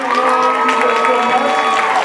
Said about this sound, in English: Round of applause to all of you for being here.